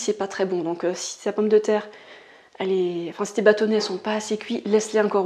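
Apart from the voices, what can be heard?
No everyday noise stands out behind the speech.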